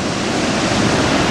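Steady, loud rushing wind at Montmorency Falls, a dense unbroken roar with no pauses and no voices.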